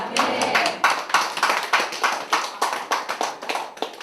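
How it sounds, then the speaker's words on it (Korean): Rhythmic group clapping, steady and energetic, a church congregation applauding together in a reverberant room, loud and sustained throughout. "우리 힘차게 박수를 쳐줘야 됩니다"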